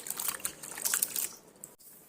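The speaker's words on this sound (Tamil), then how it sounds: "இப்போ முதல்ல இதை நான் ஒரு 3-4 தண்ணியில் மாற்றி நல்லா கழுவி எடுத்துக்கிறேன்." Cut potatoes being rinsed by hand in a bowl of water for homemade french fries, with close sloshing and trickling splashes that fade away toward the end.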